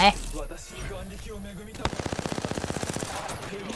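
Automatic gunfire in the video game Apex Legends rattles out in one rapid burst of about a dozen evenly spaced shots lasting roughly a second, following quieter in-game sounds.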